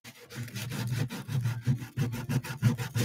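Rapid back-and-forth scraping strokes, close and rhythmic, like sandpaper rubbed hard against a surface.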